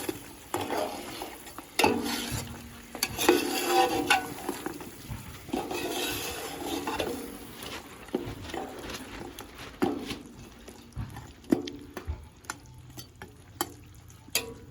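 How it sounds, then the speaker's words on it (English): Steady sizzling of South African beef curry frying in a pan, with scraping stirs and occasional clinks, close and fairly loud throughout. "Even it out and let it sizzle."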